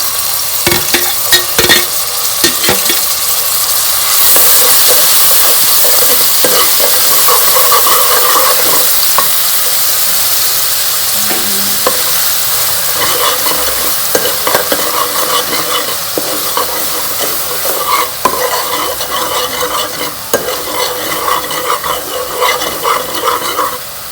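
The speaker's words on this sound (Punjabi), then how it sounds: "ਆਪਣਾ ਅਦਰਕ ਹਰੀ ਮਿਰਚ ਤੇ ਟਮਾਟਰ ਭੁੱਜ ਗਿਆ ਜੀ" Chopped ginger, green chili and tomato fry loudly in a pan for dhaba-style palak paneer, a dense close sizzle with frequent spatula scrapes and clanks on metal, continuous throughout and free of speech.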